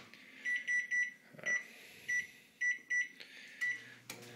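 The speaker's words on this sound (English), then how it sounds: "I'm just going to put this in the microwave" A microwave oven gives a series of short, crisp electronic beeps in an uneven pattern, close and clear over a quiet room, ending in a brief clunk.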